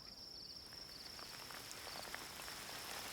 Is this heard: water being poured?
no